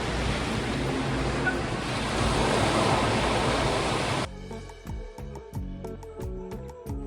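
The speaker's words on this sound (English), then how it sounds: "just right for watching sunsets and listening to the waves of the Pacific." Pacific Ocean surf at Kaanapali Beach on Maui, a loud broad wash of breaking waves that cuts off abruptly partway, followed by a different quieter stretch with scattered tonal sounds.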